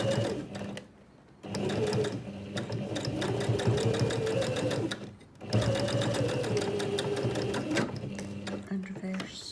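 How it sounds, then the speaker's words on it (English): A sewing machine stitches a seam on a zipped pouch, reversing into the corner: rapid close mechanical whirring and needle clatter running in three bursts separated by short pauses, with a voice speaking over it. "Reverse stitch into the corner."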